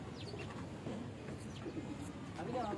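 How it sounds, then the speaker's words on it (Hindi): Pigeons cooing on a rooftop in Multan, soft repeated coos and faint chirps near the mic over a steady outdoor background, with voices talking at times. "ये कबूतर है जी"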